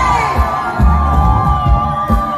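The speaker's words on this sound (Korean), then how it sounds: "다시 한번 큰 박수와 함성이 필요한데 여러분 함성 크게" A large crowd at a Korean outdoor TV singing contest cheers and shouts loudly and steadily, with bursts of excited whooping rising over a continuous roar.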